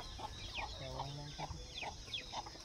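Chickens cluck in a village farmyard among fields, with short, regular clucks repeating about every half second, fairly faint and steady against a background hum.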